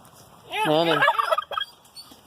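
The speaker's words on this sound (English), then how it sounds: "Turkeys that were at our house." A domestic turkey lets out one loud, close gobble, a rapid warbling burst lasting under a second, followed by a few short clucking notes against quiet background.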